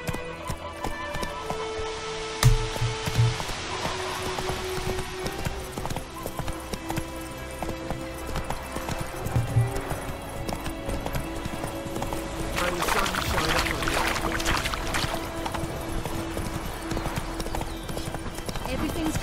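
Galloping horse hooves in the video game The Witcher 3, a fast, steady clip-clop running throughout under a sung music track, with an occasional whinny.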